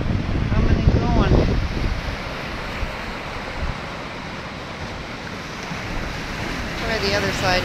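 Waves crash on a Lake Superior agate-hunting shore in bitter cold, a dense roaring surf with wind buffeting the microphone, swelling loudest near the start and again at the end.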